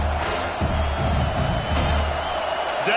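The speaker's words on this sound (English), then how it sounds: "Decibels rising as the crowd gets behind this defense on 3rd down." Roaring football stadium crowd at a Miami vs South Carolina game cheering on third down, a dense, loud, sustained wall of noise with scattered whoops rising out of it.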